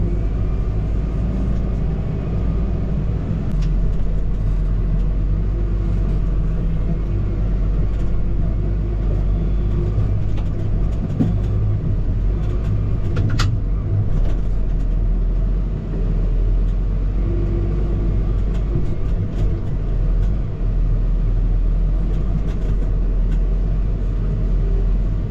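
A vehicle rolling across a grassy scrap yard with pipe and debris buried under the grass, heard as a loud, continuous low engine rumble from inside the cab, with faint rattles and knocks throughout.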